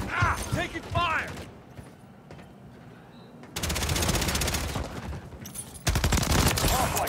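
Automatic gunfire rattles in Call of Duty: Modern Warfare 3, with sharp bursts near the start and two sustained stretches of rapid shots later, mixed with game voice callouts and a quieter lull in between.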